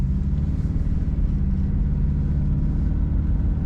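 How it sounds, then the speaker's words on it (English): Steady low engine rumble from a 1994 Cadillac Fleetwood Brougham running smoothly and pulling under acceleration, a continuous even drone heard from inside with no talk. "Nice smooth running Cadillac with good acceleration"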